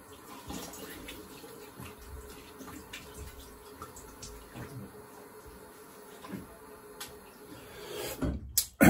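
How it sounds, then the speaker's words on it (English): A quick rinse under a running tap gives a steady, fairly quiet wash of water throughout, ending in a brief louder clatter and splash. "And do a quick rinse just a moment."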